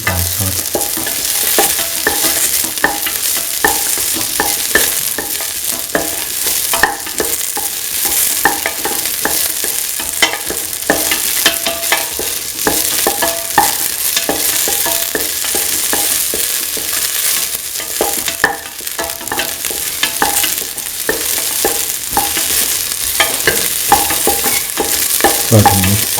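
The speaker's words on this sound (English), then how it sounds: "Keep on sauteing." Ginger and garlic sautéing in a pan, a steady loud sizzle with constant stirring and scraping of the utensil throughout, close and without any voices.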